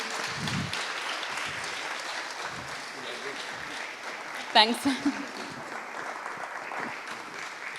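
An audience at a Ca' Foscari masterclass applauds to welcome two speakers: steady clapping across the room, then a few spoken words and a brief burst of sound as the applause settles.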